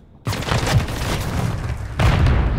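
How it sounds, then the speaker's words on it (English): A grenade explosion in Call of Duty MW3 ranked play, a sudden loud blast that breaks the quiet and rumbles on, followed by a second heavy boom near the end. "No way, my grenade don't kill him."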